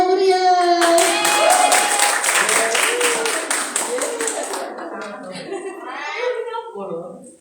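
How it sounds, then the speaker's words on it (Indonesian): Clapping from a group at an inauguration ceremony sounds for a few seconds over ongoing talk, then fades as speech carries on alone. "Beri tepuk tangan yang meriah."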